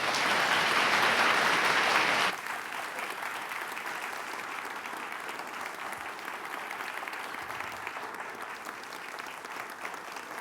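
Audience applause welcoming Dr. Eric Rasmussen at a Stratford Festival forum, loud and dense clapping for about two seconds, then fading to a softer, lingering patter of scattered claps.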